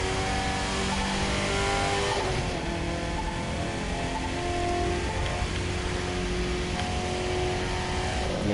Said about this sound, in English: So I'm actually really skidding.